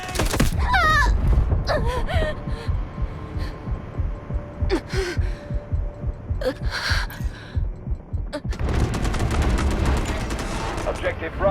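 Bursts of automatic gunfire in the mobile shooter Delta Force Mobile, rapid sharp cracks in clusters with pauses between volleys, some near and loud, others more distant, with occasional game voice lines.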